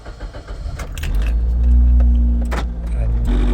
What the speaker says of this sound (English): Turn on the car to use the radio.